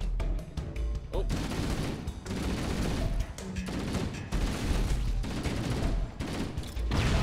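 Loud, continuous automatic weapon fire in Halo: Combat Evolved, bursts stacking with short gaps between volleys.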